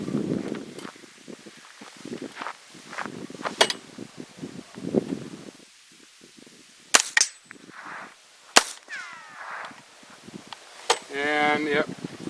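A .22 LR short-barreled rifle fires Aguila subsonic rounds at steel targets, giving a few sharp, separate reports with metallic pings, heard near and between stretches of talking.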